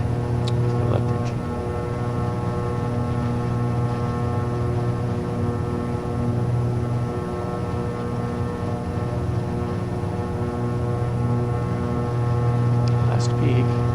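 A simulated Beechcraft Baron 58P twin-engine plane in Microsoft Flight Simulator holds its left engine at a steady run-up drone, constant and alone.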